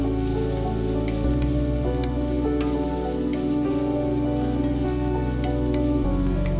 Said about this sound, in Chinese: 炒到它出那种金黄色的胡萝卜油的时候呢，那么你就可以加入香菇丝了